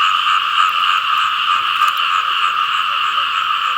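Frogs croak in a loud, dense, continuous chorus that holds steady from start to finish, heard outdoors during frog catching. No voices break in.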